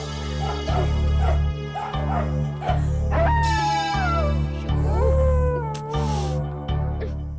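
A dog yips and whimpers in a string of high, wavering cries over a steady low hum, close and fairly loud.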